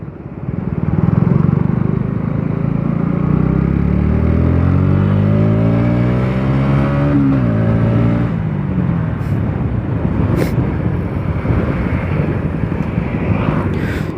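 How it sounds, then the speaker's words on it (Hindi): Heavy road traffic sits in a jam near a park during an evening motorcycle ride, a loud continuous rumble of engines with one vehicle's engine rising and falling in pitch close by. "इतना ज़्यादा ट्रैफिक जो हो रखी है।"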